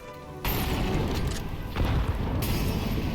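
A flashbang grenade detonating in the video game Counter-Strike 2: a loud, sustained burst of dense noise that holds steady for about three seconds, with no talking.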